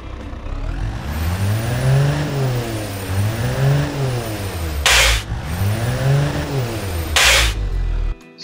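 A simulated diesel engine in the Automation car game idles and then revs up and down in two smooth sweeps, loud and close, with short hissing bursts between revs.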